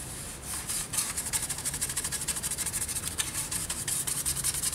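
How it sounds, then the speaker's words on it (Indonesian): Termite-eaten wood being scrubbed clean by hand as it is prepared for a resin table, a steady, close rhythmic rubbing and scraping with short repeated strokes throughout, no voices. "Nah ini kita gosok-gosok kayak gini sampai bersih."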